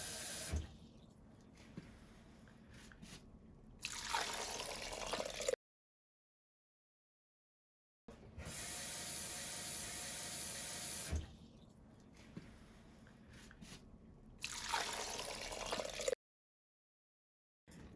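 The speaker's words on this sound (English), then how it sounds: "we're gonna fill it up with about 2, maybe 4 cups of water" Tap water runs steadily into a pot in long bursts, stopping and starting with brief silences between, close by and fairly loud.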